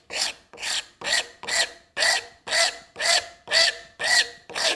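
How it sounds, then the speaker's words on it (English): Auriou rasp shaping a wooden workpiece with about ten even, rhythmic rasping strokes, each a loud, close, gritty scrape separated by brief pauses. "here we are shaping, we'll go across this, and when I get down almost to my line, I'm going to switch to a modeler's rasp."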